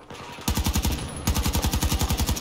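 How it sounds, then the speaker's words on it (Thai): Rapid automatic gunfire during a shootout in the video game Battlefield 2042: a short burst is followed by a longer, steady stream of loud, close shots in even rhythm, with no talking. "ยิงกันตรงนี้แหละ"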